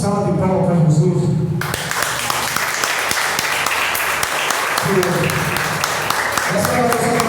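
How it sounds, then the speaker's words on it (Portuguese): Congregation applauding during an evangelical church service, a loud sustained roar of clapping that rises after a preacher's voice and continues under intermittent speech. "Dá uma forte salva de palmas para Jesus."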